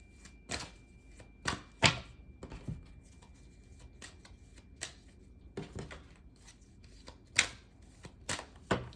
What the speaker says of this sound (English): I'm gonna shuffle a bit so we can move to pile 3.